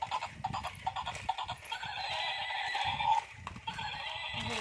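A large battery-powered toy zebra gives a loud electronic whinny over its own rhythmic clip-clop stepping and a mechanical whirr, all close by.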